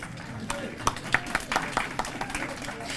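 Scattered claps from a conference audience after a talk, irregular sharp hits building briefly, moderately close and fairly light rather than a full ovation.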